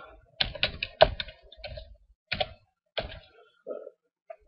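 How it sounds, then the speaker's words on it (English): Computer keyboard keys tapped to type a search word into the Windows 7 start menu: a short, irregular burst of close, crisp clicks with small pauses between them, heard alone. "Type in backup."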